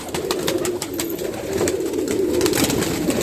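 Pigeons in a loft in cold winter weather coo in a steady low warbling chorus, close and continuous, with soft wing flutters and scratchy rustles from the birds moving about.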